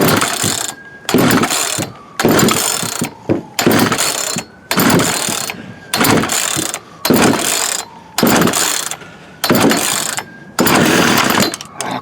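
Repeated pull-starting of a Poulan 36cc Wild Thing chainsaw with a suspected carburettor problem: about a dozen loud, rhythmic rasping recoil-cord pulls with short gaps between them, the engine never catching.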